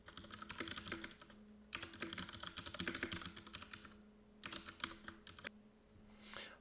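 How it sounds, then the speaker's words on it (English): Rapid, uneven clicking of a computer keyboard as a question is typed, with bursts of keystrokes separated by short pauses, close and fairly quiet, no voices. "So I'm going to type in this question. You're going to hear me clicking along."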